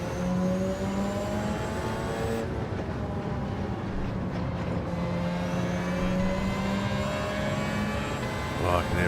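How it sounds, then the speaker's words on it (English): Mazda LM55 race car engine in Gran Turismo 7, a steady loud drone with sustained engine harmonics and slight pitch shifts, mixed with other car noise and faint talk. "I can't hear a 787B, I can hear an LM55 Mazda."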